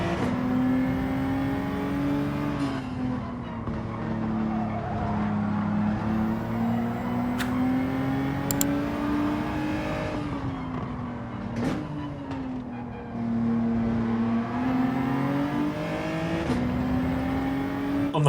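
Race cars in Gran Turismo 7 accelerating hard toward the finish line, a loud continuous engine drone with rising and falling pitch through gear changes, close and alone throughout.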